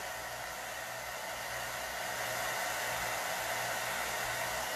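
A hair dryer or heat tool blows steadily over wet chalk paste on a craft project, a loud, even rushing hiss that runs unbroken for the whole stretch with no voices.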